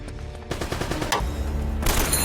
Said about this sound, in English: in the next gun battle, we get another gun-related trophy for getting 50 kills with the AK-47